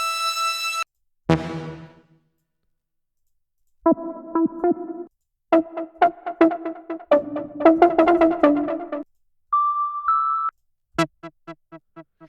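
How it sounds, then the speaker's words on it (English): Synth pluck patch played in Ableton Live for a melodic house track, with short bright plucked notes in quick rhythmic runs and a few longer sustained synth tones between them. The notes are loud, close and stand alone with no voices. "Or with a pluck sound."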